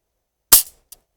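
A single sharp crack from a Marksman Repeater air gun, close and loud, followed a moment later by a faint short click.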